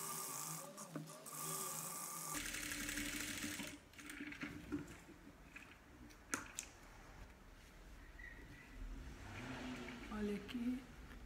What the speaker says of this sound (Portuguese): E agora eu vou passar a costurinha de segurança nisso tudo.